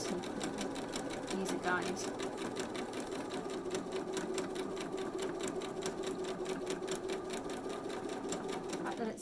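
A domestic sewing machine stitches a small fabric mini stocking with a steady, rapid mechanical chatter that runs throughout at close range, while a person talks over it.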